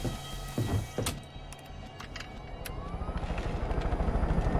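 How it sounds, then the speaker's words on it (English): A helicopter in the Far Cry 5 video game, with a rising rotor chop that grows into a steady rhythmic thrum over clattering game noise and a few sharp effects. "Just gonna take this helicopter real quick."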